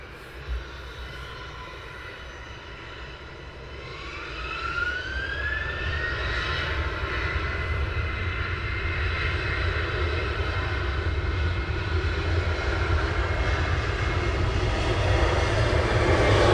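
An airliner approaching Luton Airport in the early morning, its engine roar heard from a distance and swelling gradually louder, with a rising whine, as the aircraft draws nearer.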